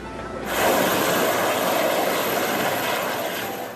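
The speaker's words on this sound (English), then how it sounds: "Choppers from Naval Air Station INS Garuda was deployed to drop relief material in Kottayam and Idukki" Military helicopters fly relief missions over flooded Kerala, a loud, continuous broadband roar that swells in after a brief quiet moment and holds steady, with no talk.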